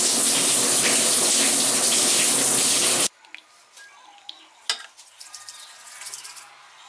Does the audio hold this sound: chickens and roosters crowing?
no